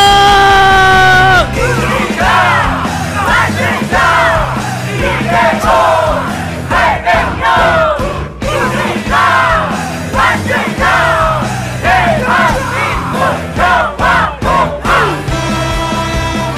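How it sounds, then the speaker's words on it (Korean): A huge crowd at a mass peace and unity rally in Korea roars and shouts together, loud sustained yelling in waves with cheering voices rising and falling, close and overwhelming. "그 출발을 바로 여러분들의 함성으로 하고 있습니다"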